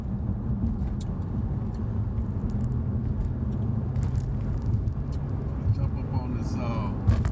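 A car drives along with a steady, low rumbling engine and road noise throughout. Faint clicks and a few brief squeaks sound above the hum, and no voices are heard.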